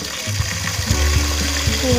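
Water pours and splashes into a cooking pot nearby for sinigang fish soup, a steady filling sound with gurgling tones rising as it fills.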